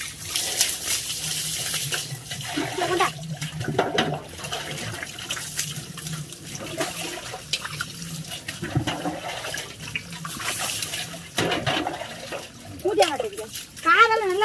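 Water pours and splashes in repeated gushes, with people talking over it most of the time.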